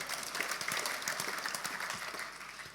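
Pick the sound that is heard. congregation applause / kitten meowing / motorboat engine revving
congregation applause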